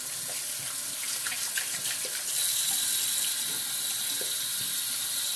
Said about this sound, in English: We'll just rinse everything